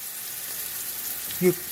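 Salisbury steak patties frying in a pan on high heat, a soft steady sizzle with a short louder tonal blip near the end, fairly quiet and with no talking.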